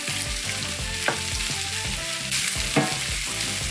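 Steady, loud sizzling of corned beef hash frying in a pan, with occasional scrapes and stirring clatters throughout.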